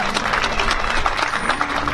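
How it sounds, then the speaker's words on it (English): Crowd at an outdoor rally in Minneapolis for George Floyd gives a round of applause, scattered, uneven clapping with individual claps standing out over a moderate, open-air background. "Let's give another round of applause to Mariam."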